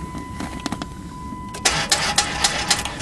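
A Dodge Caravan engine cranks during a -25 Celsius cold start, the starter churning in a few rough, uneven bursts that grow louder halfway through, close and alone without talk.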